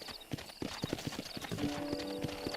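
Horse hooves clip-clopping in a quick, even rhythm of distinct close hoofbeats, moderately loud, with a faint tonal hum entering partway through and no talk.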